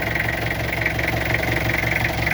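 A car engine idles steadily with its oil filler cap removed, giving a close, even mechanical hum with a fine rapid ticking rattle and no other sounds.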